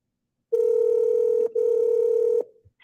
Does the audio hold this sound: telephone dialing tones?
yes